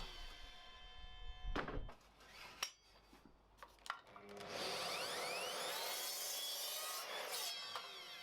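A saw cuts square treated timber stakes to length against a stop block. A few knocks and handling sounds come first, then a sustained whining cut follows, all fairly quiet.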